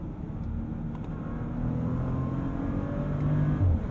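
A Bentley Flying Spur with a twin-turbo W12 engine pulls hard under acceleration, a steady deep drone that swells and climbs in pitch, heard from inside the car with no talk.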